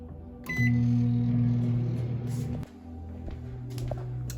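Microwave oven set to one minute at power level 3 to soften butter: a short beep, then a loud, steady running hum that drops to a quieter drone partway through, heard close with no talk.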